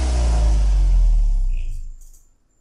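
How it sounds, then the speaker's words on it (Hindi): A car engine revs loudly up close, then winds down and fades as the vehicle pulls up and comes to a stop, leaving near silence at the end. "वह अनिल को देख लेता है और अनिल के सामने ही अपनी गाड़ी रोकता है।"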